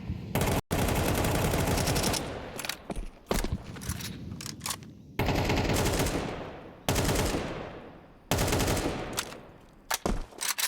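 Counter-Strike 2 gunfire in a professional esports match comes as loud, rapid automatic bursts of shots, several long sprays separated by brief gaps, with some sharp single cracks.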